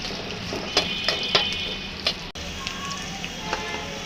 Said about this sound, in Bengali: প্রথমে দিয়ে দিলাম রান্নার তেল, দিয়ে দিব পেঁয়াজ কুচি, ভালো করে একটু ভেজে নিব